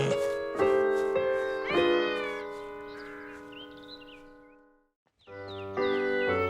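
A cartoon cat meows and yowls in a string of drawn-out, pitched cries, with bird-like squawks mixed in, then a short silence before another loud burst of cries.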